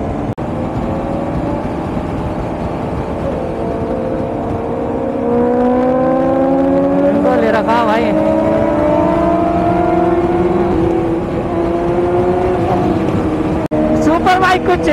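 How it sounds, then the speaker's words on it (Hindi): Superbike engines, a Kawasaki ZX10 and a Honda CBR 1000RR, drone on the Yamuna Expressway at high speed. Steady rising and falling engine pitch runs under strong wind rush throughout. "सुपर बाइक को चेस कर रहा भाई तुम्हारा भाई"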